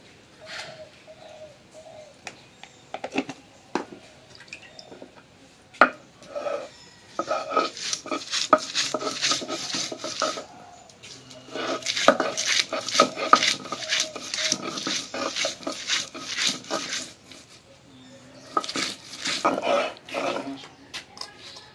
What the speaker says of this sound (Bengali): এখন রসুনগুলি আমি একটু ছেঁচা দিয়ে দিই।